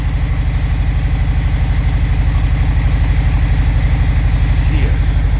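Harley-Davidson CVO Street Glide ST with a 121 motor idling in neutral, a steady deep loping throb with a fast even pulse, close and loud throughout.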